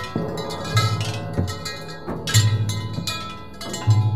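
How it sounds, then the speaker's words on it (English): Tubular bells struck by an elephant in an elephant orchestra ring out in a few slow, uneven hits, their metallic tones lingering and blending with a dense wash of other gongs and percussion. "Second chair tubular bells,"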